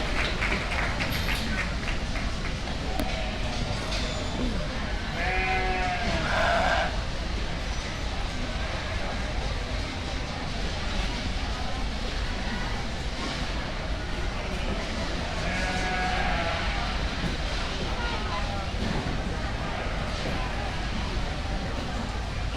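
Sheep bleat at a market lamb show in an arena, a few drawn-out calls rising above steady crowd murmur and a voice over the public address.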